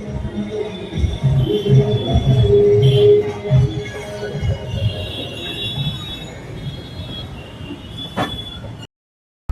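Steady low rumble of a moving train between Gorakhpur and Lalkuan, India, with rhythmic rolling and clatter, a faint high squeal near the end before it cuts to silence.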